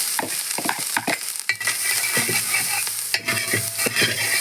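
Grated coconut fries in a pan while being stirred for aval vilayichathu: irregular scraping strokes of a spoon over a steady bright sizzle, close and fairly loud, with no talking.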